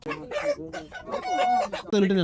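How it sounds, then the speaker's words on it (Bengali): Tiger-breed chickens cluck and squawk on a farm at Dublar Char as a large bird of over four kilograms is caught, loud agitated calls in close bursts with a sharp crow-like cry at the end. "আমাদের তহিদ ভাই মুরগি ধরার জন্য ঢুকে গেল ভাই বড়টা সব থেকে বড়টা"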